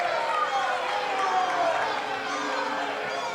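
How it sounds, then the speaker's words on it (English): Gym crowd at a 1992 girls' high school basketball game reacting to an out-of-bounds call, a steady, moderately loud murmur of many voices and shuffling across the whole stretch, with a commentator talking over it. "And the crowd doesn't like the call"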